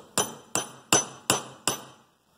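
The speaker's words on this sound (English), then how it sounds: "you just get a little chisel, and you just work your way around the edges" Five crisp, evenly spaced metallic taps ring out up close as a small chisel is struck to work loose a seal on a 1982 Mercedes 300SD, each tap decaying quickly into silence.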